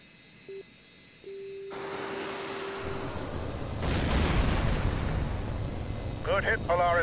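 A heat-seeking missile strikes an enemy jet in the HAWX 2 combat flight game, a loud roaring explosion building after a brief tone and rumbling on over steady jet engine noise, with radio chatter faint in the background.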